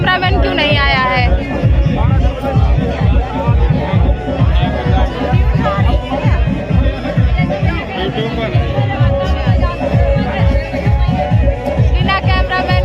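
Commotion from a crowd of wedding guests in a baraat: dense, loud chatter and overlapping voices over a steady, thumping rhythmic beat that runs the whole time.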